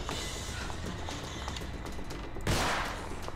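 Dense, continuous gunfire crackles throughout in the video game The Evil Within, with a louder burst of shots near the end; no voices.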